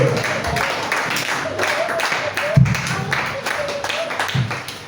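Church congregation applauding and acclaiming the Lord, with continuous clapping and cheering voices blended together at a lively, fairly loud level.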